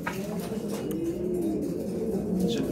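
Khnissi pigeons kept in a loft in Tangier coo continuously, a soft, low, rolling murmur of overlapping calls close by with no talk over it.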